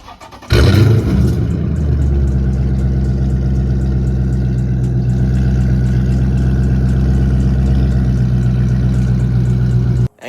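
A catless, straight-piped, flame-tuned Dodge Charger Scatpack V8 cranks and fires up after a short quiet lead-in. It settles into a loud, steady, rumbling idle that holds close and continuous for about nine seconds before cutting off abruptly.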